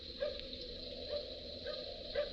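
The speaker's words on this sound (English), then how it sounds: "Little dog barking." Faint, distant yips from a little dog come through in a radio drama, a few short barks spaced apart and muffled under a steady hiss of background noise.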